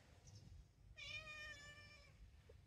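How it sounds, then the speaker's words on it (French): A moulting cat meows once indoors, a single clear, drawn-out tonal call of about a second, faint and close over a quiet background. "il y a le chat qui miaule parce que le chat fait sa mue"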